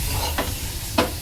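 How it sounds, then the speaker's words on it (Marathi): Mango modak filling with cardamom and nutmeg powder is stirred in a hot pan, giving a soft steady sizzle broken by two quick scraping strokes of the spoon. "आता हे मिश्रण चांगलं मिक्स करून घ्यायचं आहे"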